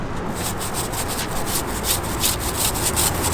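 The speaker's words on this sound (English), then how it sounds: "we can get the brush wet and then we can just scrub it too" A wet brush scrubs a large car wheel in quick, continuous back-and-forth strokes, close and fairly loud, with no voices.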